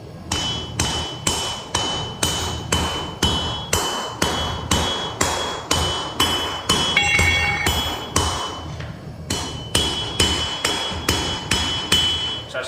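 Hammer blows on steel being forged into a Bowie knife blade, struck in a steady, regular rhythm of loud ringing impacts close by, with a short pause partway through before the strikes resume.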